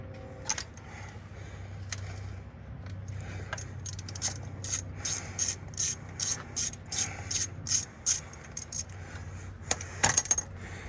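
A ratchet loosens the 10mm bolt on the crankshaft position sensor of a 2015 Hyundai Elantra, giving a steady run of quick, crisp metallic clicks close to the listener. A few louder clanks follow, with no talking.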